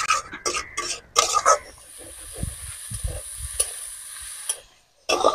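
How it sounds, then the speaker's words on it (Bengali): A potato and kundru curry with prawns is stirred in a pan: loud scraping strokes at first, then a soft steady sizzle with occasional stirs, a brief silence, and one last scrape. "তরকারিটাকে আরো কিছুক্ষণ কষিয়ে নিতে হবে।"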